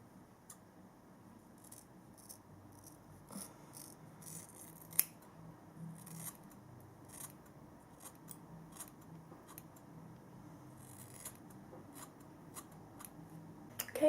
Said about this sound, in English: I'm just going to take that, give that a snip.